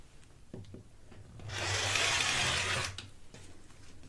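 A cutter slices through four folded layers of fabric in one continuous rasping stroke of about a second and a half, with soft handling taps before and after, close and fairly quiet.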